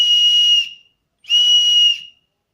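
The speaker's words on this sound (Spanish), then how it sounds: "esto es un silbato." A small pocket whistle from an everyday-carry kit gives two short shrill blasts of about half a second each, separated by a brief silence, close and clear with no talk.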